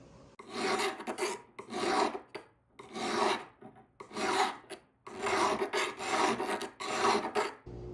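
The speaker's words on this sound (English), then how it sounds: "We're going to file the edges now to make it more comfortable." Rasping metal file strokes on the edges of a stainless steel ring, close and steady, in repeated back-and-forth bursts of about one second each with brief pauses between.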